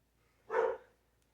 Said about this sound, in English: He barks every time a cat walks down the alley or someone drives down the alley